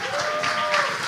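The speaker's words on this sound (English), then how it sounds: "round of applause to you all" An audience at a stage performance breaks into brief, dense clapping from many people, filling the room at an even level.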